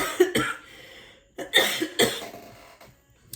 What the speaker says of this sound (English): because I'm just coughing.